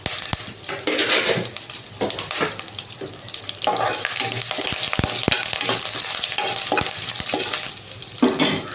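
Curry leaves, with garlic, crackle and sizzle loudly in hot oil for a brinjal dish. A spoon scrapes and clinks against the pan in an irregular stirring rhythm.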